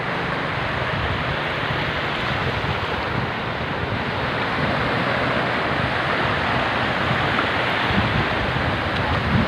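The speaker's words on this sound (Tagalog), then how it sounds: "grabe oh, lakas ng alon, no?" Strong ocean waves crash and roar continuously, mixed with heavy wind buffeting the microphone; no voices are heard.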